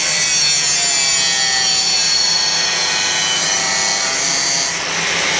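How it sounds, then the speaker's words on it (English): Hand saw cutting through fork cover material for a BMW motorcycle project, a steady continuous rasping stroke close by, loud and alone without talk. "I'm just going to cut these a bit more to give us a bit more clearance"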